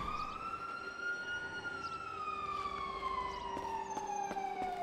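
A police siren wails in a GTA roleplay city, its pitch sliding slowly up and down in a long steady sweep, sustained and fairly prominent over a faint low background hum.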